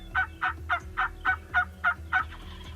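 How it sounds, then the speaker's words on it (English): Wild turkey gobblers calling outdoors, a run of about nine quick, evenly spaced gobbling bursts at moderate distance, clear over a quiet background. "were strutting and gobbling and putting on a good show for us the whole time"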